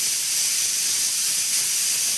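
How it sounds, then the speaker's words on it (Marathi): A kitchen pressure cooker letting off steam while cooking a thin sago batter for upwas chakali, a loud continuous high hiss, close and alone. "त्याला कुकरची शिट्टी देखील होत आहे."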